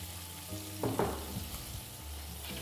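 Prawns fry in oil in a pan, giving a soft steady sizzle with a few louder crackles and stirring clatters near the start.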